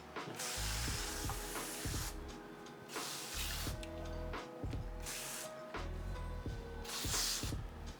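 A household sprayer pumps leather dye in repeated hissing bursts with mechanical clicks between strokes, close and steady, with no talk.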